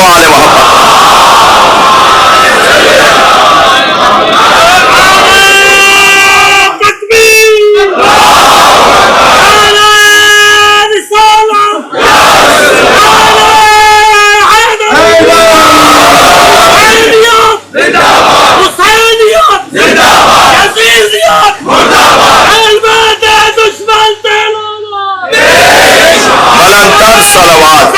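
A very large crowd at a 9th Muharram central majlis loudly recites salawat in unison, with waves of chanted voices rising and falling and cheering-like swells, dense and close.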